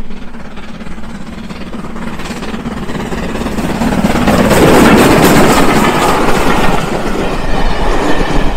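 Steam locomotive running, a loud, close rumble with rolling rail clatter that builds toward the middle and holds steady, heard alone without voices.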